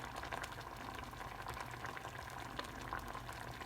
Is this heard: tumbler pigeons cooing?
no